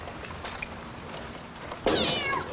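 A cat in a dark street beside a rubbish bin gives one short, clear meow near the end, standing out over a quiet, slightly noisy background.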